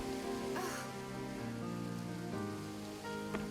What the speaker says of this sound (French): Il pleut énormément.